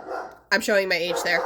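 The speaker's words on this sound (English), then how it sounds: "Again, I apologize for the dog." A house dog barks at people walking past outside: a few loud, close barks and yips right over a man's speech.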